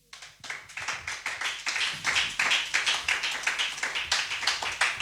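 A church congregation claps and applauds at a French-language sermon, a dense run of handclaps with a steady rhythm, fairly loud and close, continuing for several seconds without speech.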